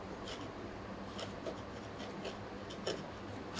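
A crisp-baked sweet pizza topped with apple and white chocolate is cut, giving faint, scattered crunchy rasps and scraping strokes under a quiet background.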